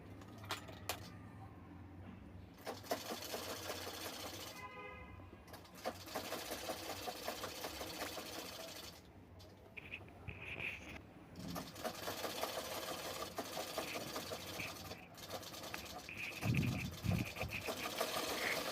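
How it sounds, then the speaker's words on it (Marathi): A sewing machine stitches the sleeves onto a half princess-cut blouse, its motor running in steady bursts with pauses between seams, fairly quiet throughout. "इथे बाई शिवून झालेली आहे आणि दोन्ही साईड मी शिवून घेतलेल्या आहेत"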